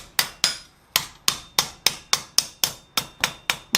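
A blacksmith hammers hot metal on an anvil while forging a flower coat hook, delivering about thirteen sharp, ringing blows in a steady, even rhythm, close and alone with no talk.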